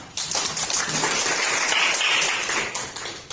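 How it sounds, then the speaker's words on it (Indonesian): A classroom of students claps their hands together in a sustained, fairly quiet burst of applause lasting a few seconds, with no talking over it. "Tepuk tangan."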